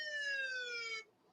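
A single electronic siren tone, a steady bright wail that slides slightly downward for about a second before cutting off abruptly, heard alone and fairly faint.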